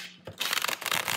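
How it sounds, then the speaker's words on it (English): A tarot card deck is shuffled up close, giving a quick burst of riffling and flicking card noise that is fairly loud and heard alone. "Let's see how this shuffles."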